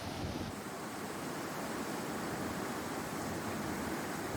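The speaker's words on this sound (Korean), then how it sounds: "파도가 넘실대고 야자수가 휘청거릴 만큼 세찬 바람이다." Strong coastal wind blows across the shore near Cairns, Australia, with surging waves; a steady, even roar of rushing air and surf fills the scene, fairly soft and continuous with no voices.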